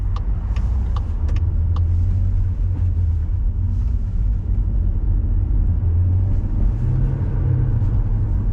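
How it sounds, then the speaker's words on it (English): A learner driver's car engine rumbles and revs during a driving test in Leeds, a loud, steady low drone that swells and eases slightly, heard close from inside the car, with faint clicks early on. "Why did the car rev?"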